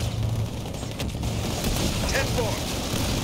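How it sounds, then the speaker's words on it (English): Explosions in a multiplayer video game, a low rumbling boom and crackling bursts rolling under continuous game noise at fairly loud level, with no voices over them. "I hear explosions."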